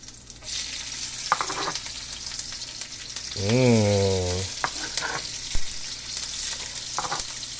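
Chili peppers hit a pan with shrimp and sizzle steadily, with stirring scrapes and clatters, while a brief rising whine briefly cuts through near the middle.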